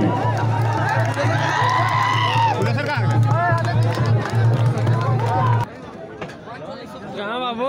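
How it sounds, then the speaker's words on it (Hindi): A large crowd at an outdoor political rally in Jharkhand claps and cheers loudly to welcome the state's chief minister, with a steady wash of applause and voices that drops off abruptly near the end. "एक बार जोरदार तालियां इनके स्वागत में"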